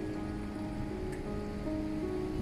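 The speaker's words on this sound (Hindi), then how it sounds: "बारिश एक दफ़ा फिर शुरू हो गई है" Steady rain falls in Abu Dhabi as an even, soft hiss with a faint tonal hum underneath, and no voices.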